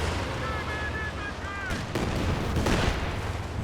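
Machine gun fire from Company of Heroes 2, a World War II strategy game, crackles in steady bursts under a dense layer of battle noise, with a voice commenting over the mix.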